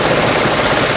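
A jackhammer breaking ground on a Moscow street during removal of underground wires, a loud, close, continuous rapid pounding rattle with dense hammering noise filling the whole stretch.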